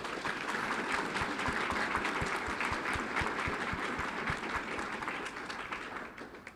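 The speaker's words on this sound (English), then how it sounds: "Let's give them all a round of applause." An audience at a Fort Worth school board meeting applauds a school robotics team, a dense, steady clapping that carries on without a break and fades slightly toward the end.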